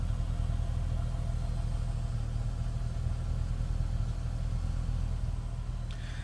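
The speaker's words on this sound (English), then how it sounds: "Man, this car does sound so good." A 2014 Nissan Maxima idles with a steady, throaty low rumble, close and continuous with no voices, holding even until a faint brief higher rattle near the end.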